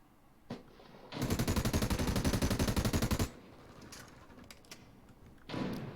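Automatic gunfire in a competitive shooter match, a fast burst of about two seconds of evenly spaced shots, with scattered single shots and another short burst afterward.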